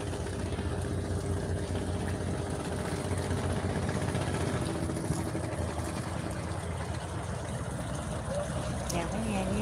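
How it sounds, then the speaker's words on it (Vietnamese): A large barge on a river, its engine giving a steady, continuous low drone close by throughout, with water and motor noise filling the background and no clear talk. "Xà lan to đùng."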